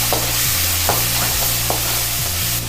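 Steady sizzling of chopped onions sautéing in oil in a pan after garlic, with a few stirring scrapes and a low hum of a stove or fan underneath.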